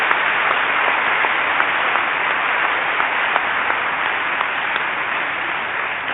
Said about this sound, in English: please give a massive thank you and round of applause to Fatou, to Priscilla and to Asa